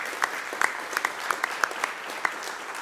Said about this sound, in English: please join me in a round of applause for them as well